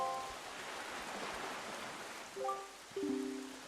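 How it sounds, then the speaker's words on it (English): Steady rain falls on a cursed island under dark clouds in the Wind Waker HD game, a soft continuous hiss with brief tonal game chimes near the end. "this place suffers under dark clouds and rain"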